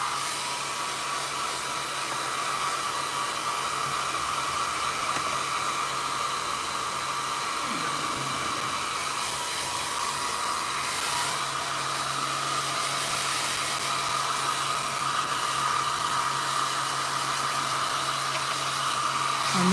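Hair dryer blowing steadily on a very wet acrylic ink page, a constant loud airy whoosh and motor whine running unbroken for about twenty seconds.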